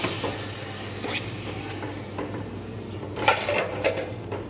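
Spices sizzle and fry in a pan with a little water added, a steady low hiss broken by a few soft stirring scrapes and clinks near the end.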